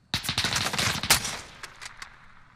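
Rapid bursts of gunfire in the video game Call of Duty Warzone, a loud cluster of shots in the first second and a half followed by scattered, fainter single shots, with no talking.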